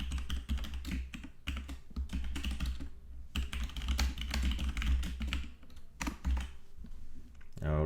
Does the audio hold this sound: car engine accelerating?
no